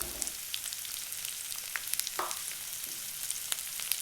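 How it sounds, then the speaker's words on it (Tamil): Onions frying in a pan with turmeric stirred in, a steady soft sizzle with a few faint scraping stirs, fairly quiet and without voices. "மஞ்சத்தூளை போட்டுட்டு நல்லா கிளறிக்குங்க."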